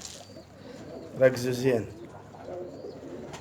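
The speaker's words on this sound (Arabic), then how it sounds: "صعدت فوق دابوا على الطيور، وشوفوا منو راجع لنا." Pigeons coo on a rooftop, a short soft burst of cooing close by, with someone speaking quietly around it.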